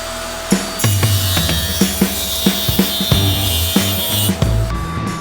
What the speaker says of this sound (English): Next, I'll make a rabbet along the back edge of each side that the 1/4 inch plywood back will fit into.